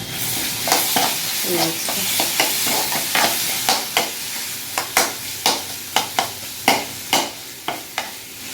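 Chilla batter cooking in a hot pan for a home breakfast, with a steady sizzle under a run of sharp, regular scraping and tapping strokes from a spatula, close and fairly loud, with no talk.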